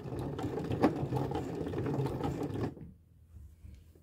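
A sewing machine backstitches fabric while sewing a lap zipper, its needle motor whirring in a quick steady rhythm for a couple of seconds before stopping abruptly, leaving faint room quiet.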